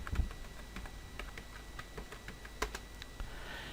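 Keystrokes clatter on a computer keyboard as a terminal command and password are entered: a quick, irregular run of light clicks, close and clear, with no voices over them.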